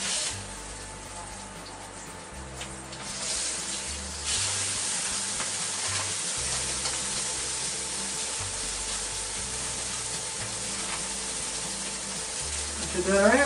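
Pork steaks sizzle and fry on a cheap induction cooker in Khon Kaen, a steady broadband hiss running throughout with a faint low hum beneath, close and continuous.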